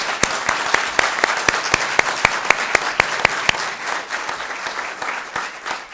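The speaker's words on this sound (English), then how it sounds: "Let's give him a round of applause." Applause at a township committee reorganization meeting for a newly welcomed fire director: crisp, closely spaced claps in a quick rhythm that soften into a denser, fainter patter of applause toward the end.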